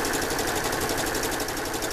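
Sewing machine stitching the seam of a decorative pillow, a steady, fast, continuous mechanical whir with rapid needle ticking, close and loud throughout with no talking.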